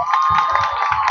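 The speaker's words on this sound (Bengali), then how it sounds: "আমি সেনাবাহিনী ভাইদের সকলের পক্ষ থেকে জোরে জোরে করতালি চাই" A large crowd at a rural and cottage industries fair in Barishal applauds loudly, a brief, dense wash of rapid clapping and cheering.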